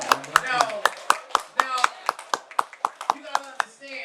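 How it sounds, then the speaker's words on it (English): A live audience claps at a Los Angeles comedy show at the Peppermint Club in a steady, rhythmic pulse of sharp claps about four per second, with a host's voice talking over them. "Clap it up loud."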